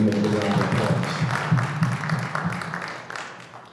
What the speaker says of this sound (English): I'm giving him a round of applause